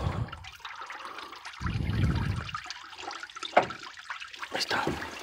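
Coolant splashing and trickling out of a Hemi 5.7 engine during a water pump replacement, a steady close-up pour with uneven gushes and drips, with no one talking.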